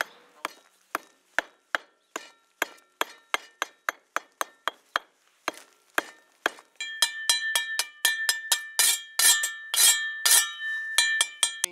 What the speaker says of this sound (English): I'm simply using my scotch hammer, it's got the teeth in, and my trusty trowel.